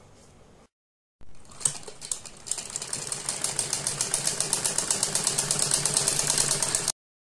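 Sewing machine stitching a sleeve seam on a kurti or blouse, a steady rapid mechanical whir with a fast regular ticking that builds in speed and then stops abruptly.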